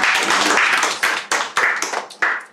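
A church congregation claps together in thanksgiving to God during a worship meeting, a loud, dense burst of many hands that swells and pulses in uneven waves without pause.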